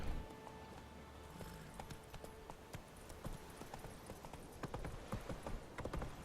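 Horse hooves clip-clopping in The Witcher 3: Wild Hunt, with a quick irregular run of hoofbeats over background game ambience, getting busier and louder in the second half.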